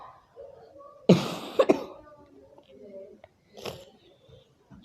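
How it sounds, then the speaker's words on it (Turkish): A person with an allergy coughing, a sharp loud burst of a couple of coughs followed later by a softer single cough, with quiet breathing and throat sounds between. "Ondan şimdi biraz öksürüyorum"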